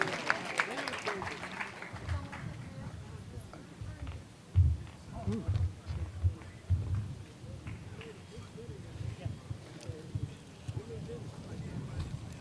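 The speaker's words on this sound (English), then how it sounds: "Give a round of applause as he makes his way to the stage" Audience applause at a memorial celebration for a man, a broad, steady wash of clapping from a crowd with a louder swell partway through and voices mixed in.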